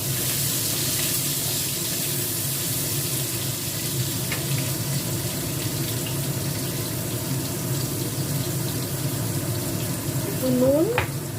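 Potatoes go into a pan of hot mustard and white oil, raising a steady, close sizzle that runs throughout with a slight swell near the end.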